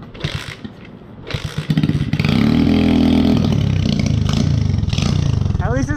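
A drift trike's small engine cranks over and then catches, settling into a loud, steady revving idle that runs to the end, with voices talking over the start.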